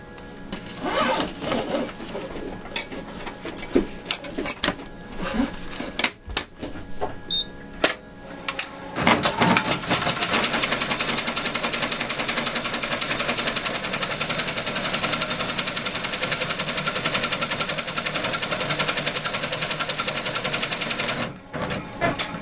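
A sewing machine stitches a crazy quilt block seam, starting with short stop-start bursts and then running in one long, loud, fast continuous stitching stretch before stopping.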